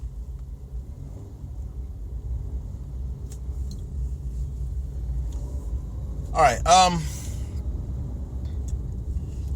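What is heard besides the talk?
road traffic heard from a car stuck on the interstate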